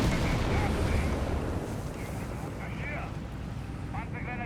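Rumbling blasts and booming cannon fire from a Tiger tank engaging infantry in Company of Heroes 3, a dense continuous battle din with muffled explosions beneath a commentator's steady talk.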